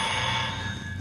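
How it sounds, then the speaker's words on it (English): A telephone rings steadily and close, a continuous electronic trill filling the short moment with no talk over it. "where did I put the phone?"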